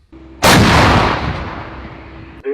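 A single loud blast from a Krab self-propelled howitzer at the front booms close by, its heavy roar rolling and slowly fading over two seconds before a faint mechanical sound.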